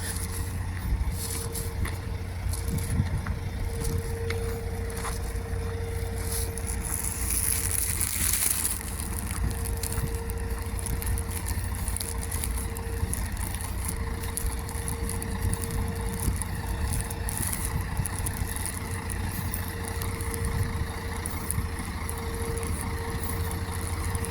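Truck engine idling in a large company yard, a steady low rumble with a constant hum, fairly quiet and continuous, with faint yard noises over it.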